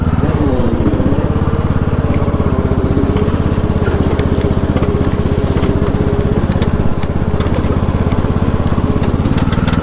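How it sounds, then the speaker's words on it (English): A small petrol lawn mower engine idles steadily with a loud, even putter, close by, running on without pause. "Now I'm going to let the lawnmower run."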